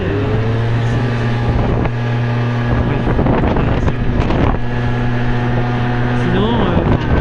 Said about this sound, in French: Franchement, le moteur est super bon.